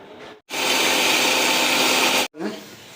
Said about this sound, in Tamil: தேங்காய் ஒரு மூணு பத்தை பெரிய பெரிய பத்தை நம்ம இதில் அரைச்சிக்கலாம்